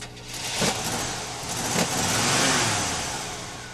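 A car engine on a cold morning, revving up and down in a couple of surges and then holding a rising drone, close and fairly loud with no voices.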